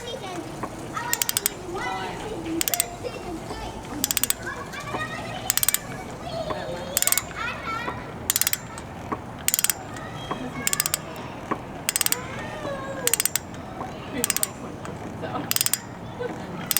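Repeated ratchet clicks from tightening spark plugs on a Harley-Davidson V-twin with Screamin' Eagle plug wires, coming in short regular bursts about every second and a half, close and crisp, with someone talking throughout.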